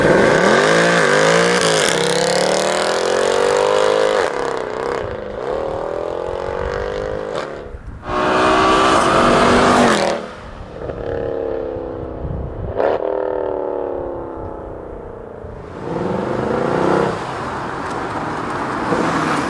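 A Mercedes-AMG sedan's engine revs repeatedly, up close and loud, with surging blips and brief drops in between and no talking.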